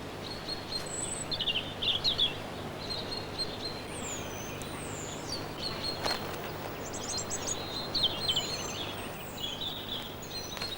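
Birds at a British garden feeder chirp and whistle continuously over a steady outdoor hiss, several calls overlapping at moderate distance with occasional louder bursts.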